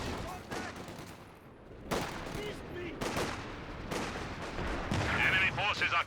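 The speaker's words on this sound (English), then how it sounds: "120mm mortar now firing away" A 120mm mortar fires repeatedly during a Company of Heroes 2 battle, heavy booming launches and distant impacts mixed with rattling gunfire, under a commentator's voice.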